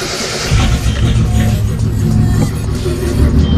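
A car engine being started after sitting for a week, catching and then running with a deep, loud, steady rumble close by, with slight swells in revving and no one talking.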